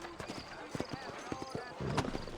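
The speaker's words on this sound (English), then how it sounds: "You ain't gonna find sturdier horses than these in all of New Ulster." Horse hooves clip-clop in quick, close beats in the Red Dead Redemption western video game, with faint voices beneath and a brief swell of noise near the end.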